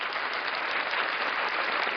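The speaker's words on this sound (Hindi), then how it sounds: "एक बार जोरदार ताली हो जाए हमारे सर के लिए" Steady applause from a seated audience at a talk, dense continuous clapping filling the whole moment with no voices over it.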